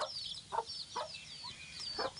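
Pet chickens being fed whole corn cluck in short repeated calls, several close, moderately loud notes spaced across a couple of seconds with no talking.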